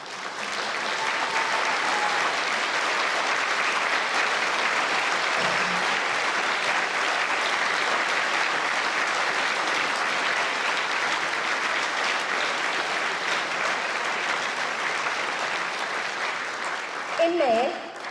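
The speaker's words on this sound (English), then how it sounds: "please can you join me in thanking them with a huge round of applause" Guests at a charity ball give a long, steady round of applause, a thick even wash of clapping that carries on without a break and ends with a few brief scattered sounds.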